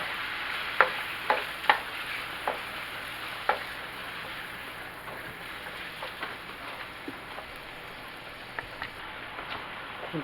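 Shrimp sizzling in melted butter and garlic in a hot pan, a steady close frying hiss with scattered pops and crackles, a few sharper spits early on, no voices.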